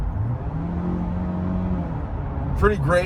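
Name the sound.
Mazda CX-5 accelerating on the freeway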